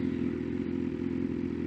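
A 2024 BMW S1000RR fitted with a full exhaust hums steadily while riding, with a continuous low engine drone and wind rush close to the rider.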